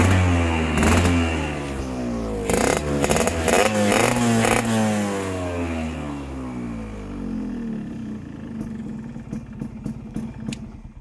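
A modified, tuned Yamaha RX100 motorcycle, started after being parked a long time, idles nearby and is revved in several sharp, loud bursts, then settles into a rough, popping idle with clattering.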